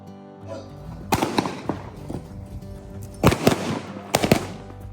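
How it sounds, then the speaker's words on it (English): Staged gunshots at a western show before a historic Grand Canyon train ride, loud sharp cracks fired in quick clusters of two and three, ringing out over faint crowd murmur. "it does get pretty loud with the gunshots"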